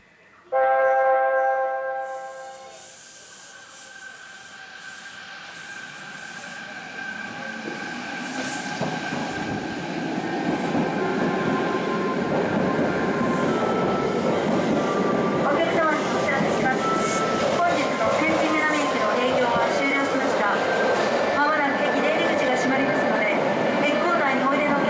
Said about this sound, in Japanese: 天神南に到着しました。 電車は回送となり、明日の博多発一番列車になります。